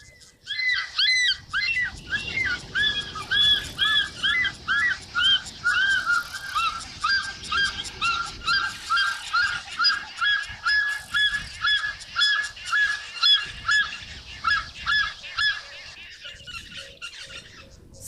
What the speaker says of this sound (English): I can actually play you the call of a martial eagle.